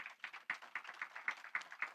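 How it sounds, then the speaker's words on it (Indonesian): Quick, fairly faint claps pulse in an uneven rhythm for about two seconds in a church congregation during a sermon, with no speech over them. "Tepuk tangan bagi Tuhan"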